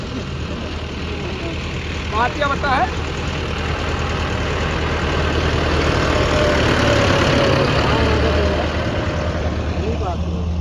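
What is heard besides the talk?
tractor engine running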